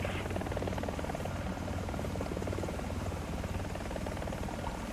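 An AH-64E Apache helicopter in War Thunder flies with a steady rotor drone and buzz, moderately faint and continuous, no talk.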